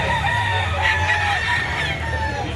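A rooster crows amid a Lipa City chicken market, one long strained call rising over steady crowd and fowl background noise, fairly close and clear.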